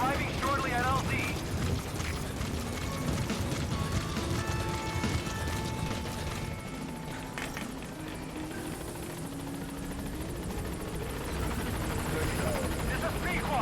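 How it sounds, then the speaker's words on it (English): A helicopter in the Metal Gear Solid V video game arrives at the landing zone with a continuous rotor thump and engine drone, while people talk over it. "let's get our helicopter"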